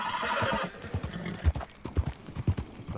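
Rhythmic clip-clop of horse hooves at a steady trot in Red Dead Redemption 2, fairly close, with a brief whinny early on and no talking.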